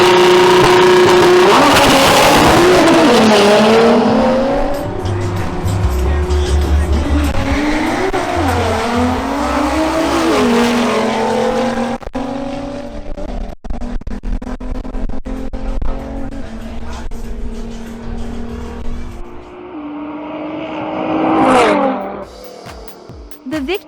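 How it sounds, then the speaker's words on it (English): A Nissan GT-R R35 and an Audi RS3 run a drag race, loud engines roaring and revving with tire squeal and shifting tones through the run, with a voice speaking over the racing. "Now we have a duel between Alvaro Tirado in his Nissan GT-R R35 versus Pedro Mogollon in his Audi"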